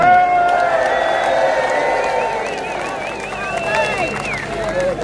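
A large outdoor rally crowd at Unite the Kingdom cheers, claps and whistles for Tommy Robinson, loud sustained applause with whoops and whistles rising over it.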